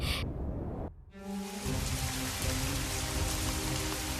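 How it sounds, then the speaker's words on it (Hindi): Heavy rain pours steadily and loudly on a dark night with lightning, a dense hiss of drops on surfaces with a brief dip near the start. "अंधेरी रात में कड़कती बिजली के साथ जोरदार बारिश हो गई।"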